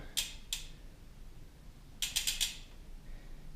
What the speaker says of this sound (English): it's not that necessary to show you what the hub sounds, but I will show you anyway